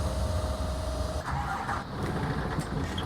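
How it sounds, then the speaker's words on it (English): A city bus in The Bus simulator, on Hamburg route 6 line 01, cranks and starts its engine, a steady mid-pitched rumble that settles into idling, heard close and alone. "Start the engine."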